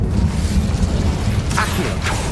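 An Incendio fire spell is cast in Hogwarts Legacy, with two short, bright whooshing bursts rising over a steady low game rumble.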